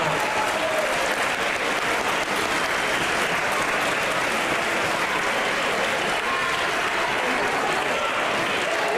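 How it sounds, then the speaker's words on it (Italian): A crowd applauds at an agricultural festival in Cogolo, the clapping steady, dense and loud throughout the nine seconds with no break. "fate un gran applauso a Celentino e Strombiano"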